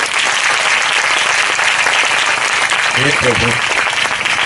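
A church congregation at an Odia sermon claps hands in continuous, dense applause that stays loud throughout; a voice cuts in briefly near the end.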